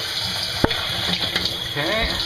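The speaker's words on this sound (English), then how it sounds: "So I'll just add some water here." Water pours from a tap into the reservoir of a ToiletTree fogless shower mirror, a steady close splashing rush with a sharp click partway through and a short spoken word.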